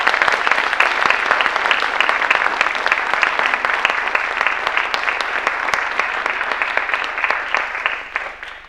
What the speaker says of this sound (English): So now I believe we can go ahead and applaud.